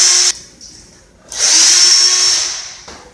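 A power drill tightens the slide-to-lock screws on a ceiling fan during installation: a loud, close motor whine in two bursts, the first short, then a pause and a longer second run.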